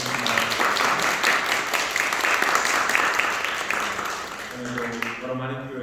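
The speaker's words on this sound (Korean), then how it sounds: "박수로 환영해 주십니다." Church congregation applauding during a Korean church's Sunday worship service: steady, dense clapping from many people for about five seconds, fading out as a voice begins speaking.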